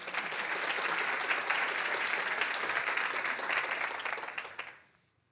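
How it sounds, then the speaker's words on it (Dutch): An audience at a symposium gives sustained, even applause that holds steady for several seconds and then fades quickly to near silence, with no voices over it. "je krijgt natuurlijk net als Wim een heel groot applaus."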